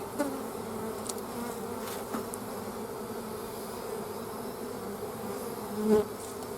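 Bees buzz in a steady, low drone around honey frames and supers from a hive, a dense swarm sound heard close and alone, swelling briefly near the end.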